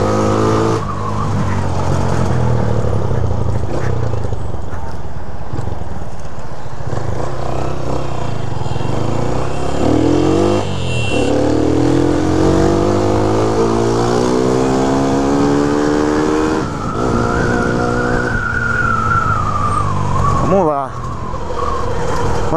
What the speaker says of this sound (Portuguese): eu tô indo de 150. Essa motinha do parceiro tá afiada, mano.